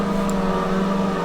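Car engine droning steadily in the racing game Assetto Corsa while drifting, a sustained loud whir with no speech.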